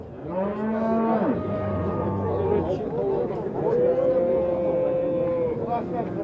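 Cattle at a busy livestock market, several long, loud moos that rise and fall one after another close by, over background chatter and crowd noise.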